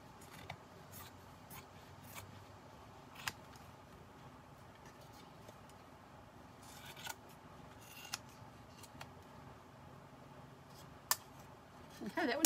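Scissors snip through thick fabric in quiet, irregular cuts while covering a scrapbook Christmas tree decoration, close and soft with rustling and rubbing between snips.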